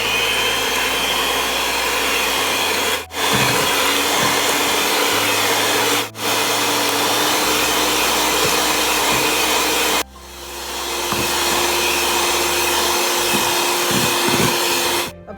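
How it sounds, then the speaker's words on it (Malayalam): An electric hand mixer whirs steadily and loudly while beating eggs with orange juice and vanilla essence for a steamed cake batter, with three brief dips in the motor's drone. "ഇനി നമുക്കിത് ഡബിൾ സൈസായിട്ട് ബീറ്റ് ചെയ്ത് നല്ല ഫ്ലഫി ആക്കിയിട്ട് എടുക്കണം"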